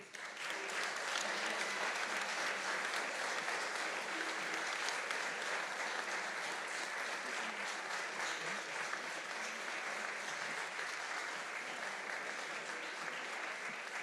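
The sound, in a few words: audience applause for competition winner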